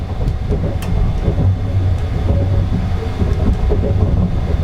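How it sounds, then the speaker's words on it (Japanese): Sunrise Express sleeper train seen from a deluxe single cabin, running quietly past Shin-Osaka at night, a steady low rumble with soft rhythmic rail thumps and faint interior rattles. "皆さんは今列車がとても静かに走っていることにお気づきだと思います。"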